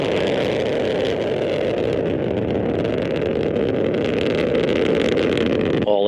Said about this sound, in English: The Soyuz booster arcing out to the northeast from the Baikonur Cosmodrome.